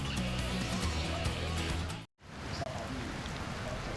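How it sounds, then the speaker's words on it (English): Heavy rain pours on the 2011 Sao Paulo Indy 300 IZOD IndyCar Series street race, a dense, steady hiss that cuts out briefly midway before resuming. "heavy rain falls on the Sao Paulo Indy 300 IZOD IndyCar Series race"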